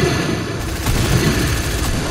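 Rapid SMG gunfire in a video game, a dense continuous burst of shots running through the whole moment alongside game sounds, loud and close.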